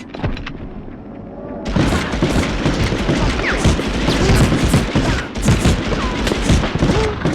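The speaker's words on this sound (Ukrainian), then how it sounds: "Почали стріляти. Стрілянина на станції." Loud, dense gunfire in the 1999 video game Medal of Honor crackles in rapid overlapping bursts at a station, a near-continuous barrage that erupts suddenly after a quieter opening.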